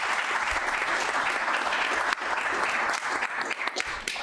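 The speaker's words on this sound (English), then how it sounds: "Can we give a round of applause to all those guys?" Sustained applause from an audience at a city council meeting, dense and steady clapping filling the room for several seconds before thinning slightly toward the end.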